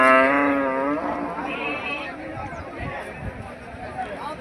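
Cow lowing loudly and close at a large cattle market in Ranebennur, a long drawn-out moo at the start, followed by shuffling, footsteps and crowd bustle.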